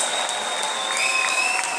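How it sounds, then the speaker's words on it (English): An audience gives a short burst of steady applause for mothers at a gathering, clapping and a little cheering blending into a dense wash. "Can we please get a huge round of applause for our moms?"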